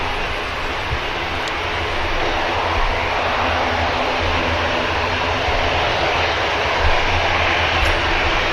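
Ryanair jet at Manchester Airport, a steady, loud broadband engine roar rumbling low throughout, with no voices over it.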